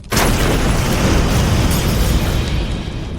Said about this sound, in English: We cut to an incredible explosion.